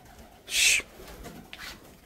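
Farm chicks call with one loud, high, brief chirp, then a fainter second one, against a quiet background with no talking.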